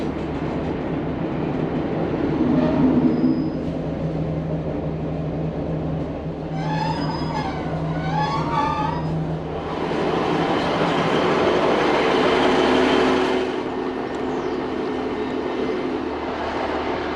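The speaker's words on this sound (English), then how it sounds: "I hope you enjoyed that that little ride along on the train." A short passenger train runs through the Penwith peninsula near Penzance and St Ives, giving a steady rolling rumble from onboard with a squealing, whistling passage in the middle that swells toward the end.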